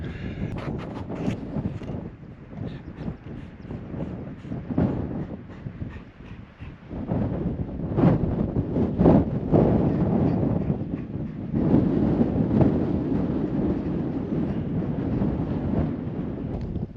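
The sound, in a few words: wind blowing on a hilltop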